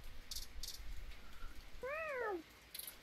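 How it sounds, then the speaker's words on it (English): A tabby cat in the video game 2064: Read Only Memories gives one clear, rising-then-falling meow, close and fairly loud against a quiet background with a few faint clicks. "Holy cow, now that's a meow."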